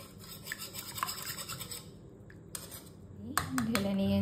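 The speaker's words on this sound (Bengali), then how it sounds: "এবার দইটা মিশিয়ে নেব" A spoon clinks and scrapes against a bowl while homemade curd is stirred into milk, giving light, quick metallic taps followed by a brief louder clatter near the end, close and fairly quiet.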